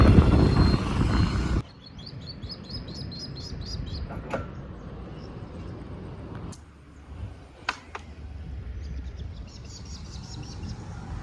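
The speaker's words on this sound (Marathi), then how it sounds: "तिथे या तुम्हाला आता मी पक्षी दाखवतो खूप सारे इकडे पक्षी असतात" Birds chirp at Pat lake in Konkan, giving rhythmic twittering calls from a short distance, with a few sharp clicks and a low outdoor rumble underneath.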